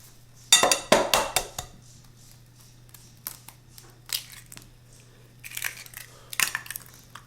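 Eggs cracked into keto almond joy chocolate chip cookie dough: sharp shell knocks and clattering taps against a bowl, followed by scattered lighter clinks and crinkles, all close and loud over a low steady hum, no speech.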